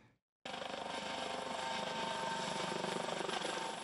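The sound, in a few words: helicopter flying during rescue exercise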